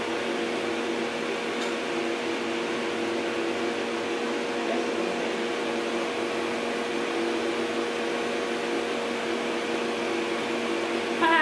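A hooded hair dryer runs with a steady, loud whooshing hum and a faint tonal whine underneath, holding constant for about eleven seconds with no talking.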